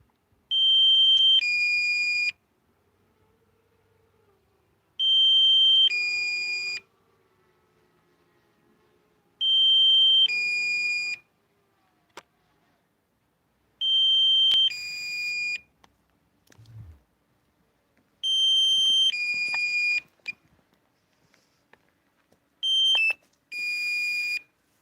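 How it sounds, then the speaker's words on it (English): Loud electronic beeps from a DJI Mini 2 drone setup in repeated bursts, each a cluster of high two-tone pulses lasting a couple of seconds, separated by short quiet gaps. "Sorry about the beeping, I can't stop that."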